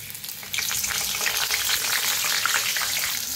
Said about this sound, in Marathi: मिरच्या छान भाजल्या त्या